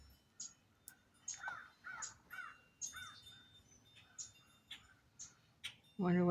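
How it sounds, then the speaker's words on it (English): Crows caw repeatedly outdoors in a rough, uneven rhythm of harsh calls at moderate distance, with smaller birds chirping in between and a louder burst at the end. "You hear all the birds around me now."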